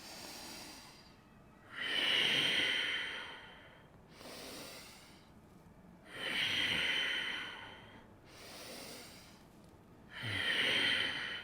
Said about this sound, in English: Let's take 3 more deep, strong breaths.